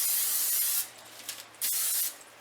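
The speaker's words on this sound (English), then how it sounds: "You're going to spray your springform pan" Cooking spray hisses into a springform pan in two short, close bursts, each under a second, separated by a brief pause with a faint rub.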